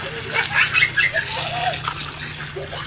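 Water pours steadily onto potted Astrophytum cactus plants, a continuous close splashing trickle with faint talk underneath.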